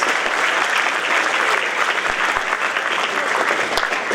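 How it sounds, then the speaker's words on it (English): Audience applause at a school jazz festival honoring elementary and middle school music, a dense, steady clapping roar from a large crowd that holds without a break. "So have a one more round of applause for all the elementary middle school"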